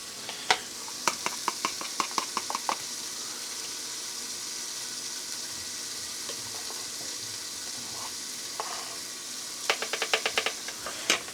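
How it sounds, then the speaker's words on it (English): Pancakes fry in butter in a pan with a continuous crackling sizzle, broken by clusters of sharp rapid clicks at the start and near the end, like a utensil tapping and scraping the pan. "Fry your pancakes in either butter or some oil."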